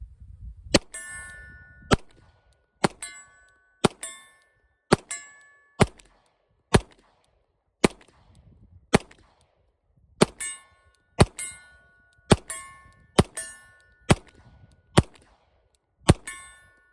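A Rock Island RIA 5.0E pistol fires about sixteen shots at a steady, unhurried pace, each sharp report followed by a bright ringing clang from a steel target.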